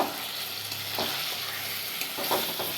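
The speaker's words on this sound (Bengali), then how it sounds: "মটরশুঁটি দিয়ে দিলাম এইবার একটু কষিয়ে নেবো" Green peas being stir-fried in a pan give a continuous close sizzle, with occasional scraping knocks from stirring.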